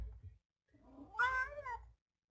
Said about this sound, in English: no, Cat, you're in the way.